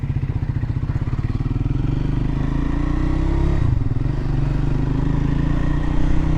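Triumph Scrambler 400 X motorcycle engine riding along country back lanes, a steady close rumbling drone with pulsing low throb that rises slightly in pitch midway, continuous throughout.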